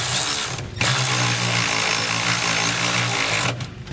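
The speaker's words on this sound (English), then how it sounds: "We can now come back with our 9/16" socket and just get these tightened down." A power tool with a 9/16 inch socket runs in one loud, continuous whirring burst to tighten trailer hitch bolts for a B and W Companion 5th wheel hitch on a 2014 Ram 2500.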